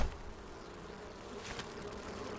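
Bees swarm and buzz in the survival game Enshrouded, a constant droning hum held steady throughout at low volume with a slight swell near the end, no speech.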